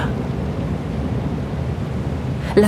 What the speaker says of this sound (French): La pluie nous fouette le visage.